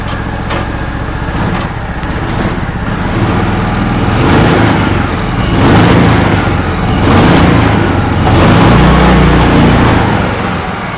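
A 1970s PUG UTV engine runs with a muffler fitted, giving a steady, fairly quiet low rumble that swells slightly in a few places. It plays alone and continuously throughout, with no talking.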